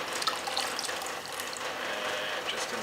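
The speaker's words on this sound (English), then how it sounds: "just taking out some of this water from the centre that doesn't get too sloppy" A sponge squeezes water from wet clay on a spinning pottery wheel, a close, continuous wet swishing and dribbling over the steady hum of the wheel.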